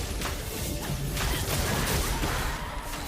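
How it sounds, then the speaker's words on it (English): In Clair Obscur Expedition 33, a rain of fire attack comes down as a dense, loud barrage of whooshes and crashing impacts that runs without a break through the whole short burst. "We'll do rain of fire."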